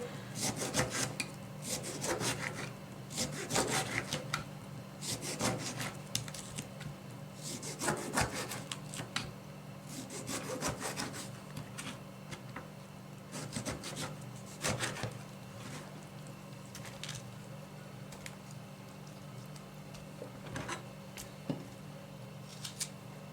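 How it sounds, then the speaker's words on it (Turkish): Knife slicing lemon thinly on a cutting board for curing olives, giving a run of repeated short cutting strokes, close and moderately loud, with a steady low hum underneath. "bu şekilde ince ince doğruyorum"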